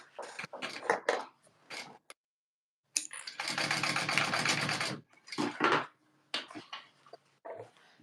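A sewing machine stitches in a long steady burst while basting a fabric panel for a tote bag, with people talking before and after it.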